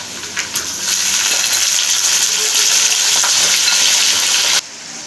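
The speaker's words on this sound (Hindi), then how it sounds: "अब मैं इसमें डाल दूँगी चिकन और इसको अच्छी तरह से भून लेंगे।" Chicken pieces frying in oil and onions in a pot for chicken biryani, a loud, close, continuous sizzle with stirring scrapes, ending abruptly near the end, with no talking.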